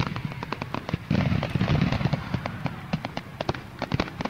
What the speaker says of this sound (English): That's all the fireworks.